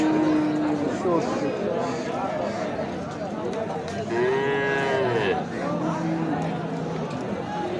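Local desi cows with calves low and moo at a busy cattle market, with several drawn-out calls rising over a constant crowd murmur while people talk nearby.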